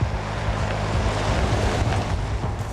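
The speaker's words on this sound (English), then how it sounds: "What we have here is a rainy, wet, windy day." Steady wind buffets and rain hiss fill an outdoor wet day, loud and continuous, with low rumbling gusts against the microphone and no speech.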